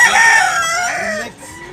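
A Gilmore gamecock, a classic fighting rooster, gives one loud, close crow at a rooster market in Tabunok, Talisay, Cebu. The long harmonic call rises, holds, then falls away.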